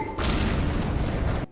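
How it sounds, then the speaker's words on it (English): A nuclear explosion thrown by a bug enemy in Hollow Knight Silksong: a single loud, deep boom that rumbles on for over a second, then cuts off abruptly. "This guy, my nuclear device launcher. He throws nukes at your ass."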